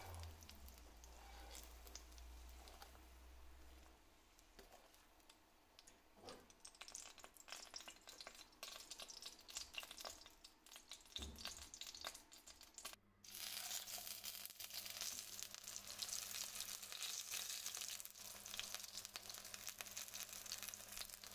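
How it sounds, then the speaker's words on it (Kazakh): Layered flatbreads with greens and onion frying in oil in a pan, a steady close sizzle with occasional stirring and scraping, growing louder and brighter in the second half. "Қалған осындай қаттама нандарымызды дәл осындай видеодағыдай етіп қуырып аламыз."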